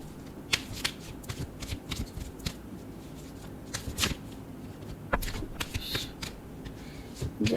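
Tarot cards being shuffled by hand, a steady run of soft riffling flicks and snaps, close and fairly quiet, with no talking over it.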